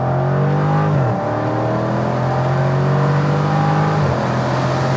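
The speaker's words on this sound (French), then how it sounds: "on va tester un petit peu l'accélération sur les départs arrêtés" Dodge Challenger R/T accelerating hard from a standing start, the engine note climbing loud and close from inside the car, with two brief dips at gear changes before it pulls again.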